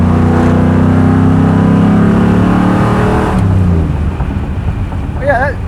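A car with a modern crate motor accelerates hard, its engine roaring loud and close, rising in pitch before easing off, with a voice briefly audible near the end.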